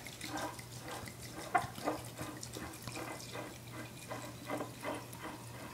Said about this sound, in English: We're just going to pour this in over our herbs.